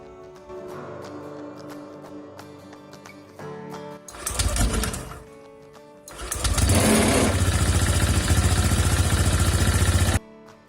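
A small motorcycle engine with a CVT transmission sputters, then starts up and runs loud and steady at close range, with a buzzing mechanical drone that cuts off abruptly.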